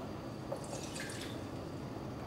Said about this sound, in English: I'm going to squeeze some of the water out of the sponge as well.